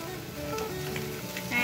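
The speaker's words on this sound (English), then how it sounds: "And I'm going to give it a nice stir so that the salt gets mixed well." Potato sabji stirred in a hot pan after salt is added gives a steady, close sizzle and frying hiss with light scraping of the spoon throughout.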